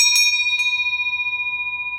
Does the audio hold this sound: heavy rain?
no